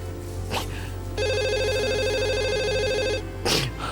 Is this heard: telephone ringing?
yes